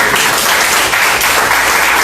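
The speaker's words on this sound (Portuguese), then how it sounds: "Se você quer, aplauda o Senhor em nome de Jesus" A church congregation applauds the Lord during a sermon: loud, dense, continuous clapping from many hands filling the space without pause.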